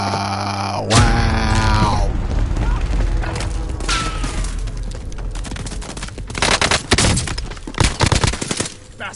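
Rapid bursts of video game gunfire crackle through a live gameplay session, with loud automatic volleys and sharp booms layered over music and effects and growing denser toward the end.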